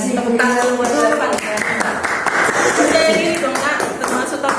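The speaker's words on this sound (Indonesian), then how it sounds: "Tepuk tangan buat Zarfan" Classroom applause for a student named Zarfan, quick scattered hand claps under a teacher's speech and overlapping voices.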